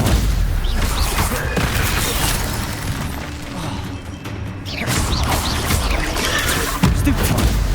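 Spell-casting blasts in the Hogwarts Legacy video game, the Stupefy stunning spell fired amid dense combat clatter, crashes and booms, with a brief lull in the middle before the loud barrage resumes.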